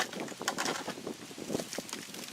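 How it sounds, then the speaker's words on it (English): Gusty wind outdoors in a garden buffets the microphone in rough, uneven bursts, a close rumbling roar with brief louder puffs and no talking. "It's awfully windy out here"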